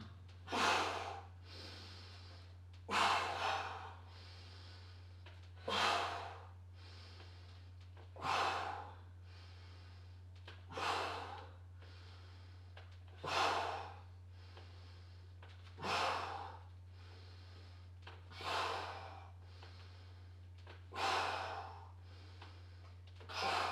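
Forceful exhaled breaths during bridge exercise repetitions, about ten sharp bursts at steady intervals of roughly two and a half seconds, close and fairly loud over a constant low hum, with no talking.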